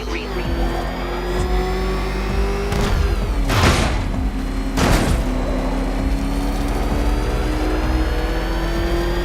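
Batmobile engine in the Batman Arkham Knight video game, a loud steady drone with two sharp revving surges in the middle, heard alone.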